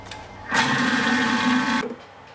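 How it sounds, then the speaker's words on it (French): Thermomix TM5 whisking egg and caster sugar at speed 4, a loud steady mechanical whir that starts abruptly, runs about a second and a half, then stops. "Et je vais fouetter le tout 6 minutes à vitesse 4."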